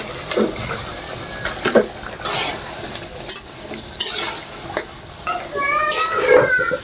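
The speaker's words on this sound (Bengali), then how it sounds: "এবার মাছ ঢেলে দেব।" Small sarpunti fish are tipped into fried cumin, chili and turmeric masala in a pan, bringing bursts of sizzling, scraping stirs and light clatter, close and intermittent, growing louder near the end.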